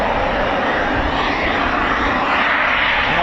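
A Eurofighter Typhoon FGR4 jet roars at RAF Coningsby, a loud, steady, broadband engine rumble and rush that fills the whole stretch with no talk.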